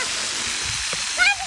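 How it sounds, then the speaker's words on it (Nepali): A park waterfall rushes steadily at middle distance, a continuous watery wash with a small splash near the end. "यहाँ एउटा अर्को उताको झरना, त्यहाँदेखि अर्को झरना यहाँ पनि छ फेरि अर्को।"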